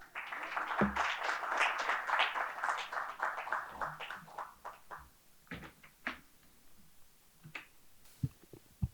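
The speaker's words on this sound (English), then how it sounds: "Let's welcome Sharath with a big round of applause." Audience applause at a campus-to-corporate summit event: a burst of clapping that thins out into scattered individual claps and fades over several seconds.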